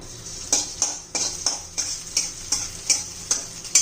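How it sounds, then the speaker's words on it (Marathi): Garlic frying in hot oil for pickle, with rhythmic stirring scrapes and a steady sizzling hiss, repeated strokes about every half second, close and alone. "कडे तेल गरम करून थोडासा फ्राय करून घेऊया आपण लसूण"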